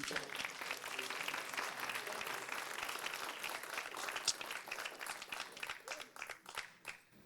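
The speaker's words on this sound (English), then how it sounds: "I just wanted to see if everyone could give another round of applause" A round of applause fills a hearing room, dense and sustained clapping from an audience that thins into scattered claps toward the end.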